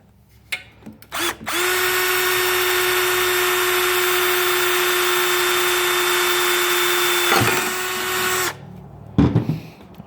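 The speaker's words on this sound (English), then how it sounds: "We've drilled a little hole in our exhaust there." A power drill whines at a steady high pitch for several seconds, boring a small hole through a metal exhaust on a Predator 212 engine up close, with short starts before and clatter after.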